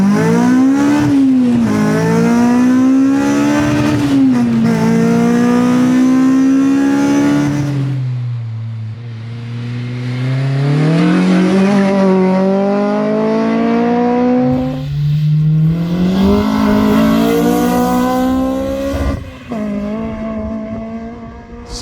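A Honda Civic EP3 track car is driven hard, its engine loud and close, rising and falling steadily as it revs up through the gears and eases off, with no talking.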